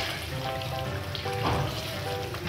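Mutton karahi fries in a wok during its last few minutes of cooking, a dense, even crackle and hiss with faint tonal traces running through it.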